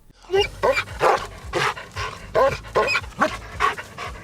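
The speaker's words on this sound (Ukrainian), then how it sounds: "Вівчар шукає людей на відкритій місцевості." A sheepdog used for searching open country barks and yips repeatedly in quick bursts, close and fairly loud, with panting between the barks and voices talking underneath.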